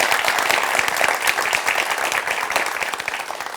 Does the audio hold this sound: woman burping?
no